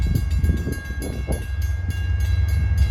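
A Long Island Rail Road commuter train arriving, a loud, close, continuous rumble with a repeating rhythmic clatter of wheels over rail joints and a steady whining tone running throughout.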